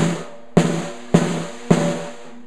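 Snare drum pressed roll made by pushing the drumstick down, three buzzing strokes about half a second apart, each a close, loud burst of rapid bounces with a sizzling snare rattle that decays into the next.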